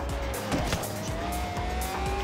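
Racing cars roar through a Forza Horizon 3 race, including a Bugatti, with a loud steady engine drone, rising gear whine and repeated tire squeal as the cars fight along a straight and out of a corner.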